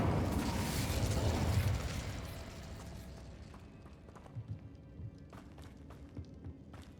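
The Incendio fire spell in Hogwarts Legacy bursts out as a loud whooshing roar of flame lasting about two seconds, then fades into a quieter crackle with faint small clicks and pops.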